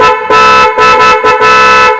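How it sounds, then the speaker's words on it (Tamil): A Roots trumpet horn fitted to a motorbike honks in several loud, close blasts of a bright brassy tone, separated by short gaps, with no one talking. "ட்ரம்பட் ஹார்ன் அடிக்கும்."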